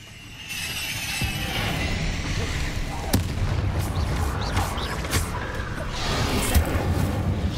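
Explosive bangs from a Bombarda spell in the video game Hogwarts Legacy crack through a busy mix of rumbling, creaks and mechanical clatter, with a few sharp booms standing out over the din.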